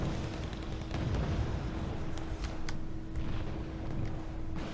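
Vihor and Moderna tanks fire in the video game Wargame Red Dragon: a few heavy cannon booms and blasts stand out over a constant low rumble of distant battle.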